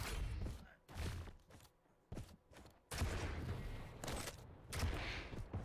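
Rocket fire in a Quake duel, a rapid burst of loud explosive blasts and thuds in uneven clusters separated by brief lulls.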